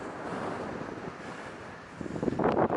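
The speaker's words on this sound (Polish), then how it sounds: "Bo to sobie strasznie wieje." Strong winter wind roars and buffets the microphone on a mountain hike toward Śnieżnik. The rumble is continuous and close, growing into harsher gusts near the end.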